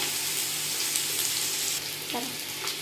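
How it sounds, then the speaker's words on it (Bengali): Potatoes and onions fry with ginger paste, giving a steady soft sizzle at moderate level with a few light stirring sounds, no talk. "তো আমাদের আলু এবং পেঁয়াজটা হালকা লাল করে ভাজা হয়ে গেছে।"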